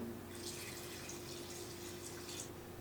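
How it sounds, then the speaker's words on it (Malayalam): Hot water pours steadily into a pot of sambar being cooked for an Onam sadya, a continuous soft splashing trickle with no voices. "ഇനി ഇതിലോട്ട് കുറച്ച് വെള്ളം കൂടി ഒഴിച്ചു കൊടുക്കാം"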